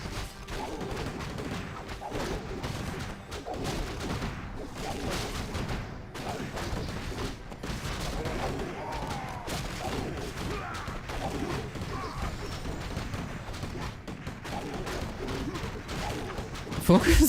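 Rifle fire clatters through a strategy video game battle, a dense run of overlapping shots, thuds and mechanical clanks under steady excited commentary.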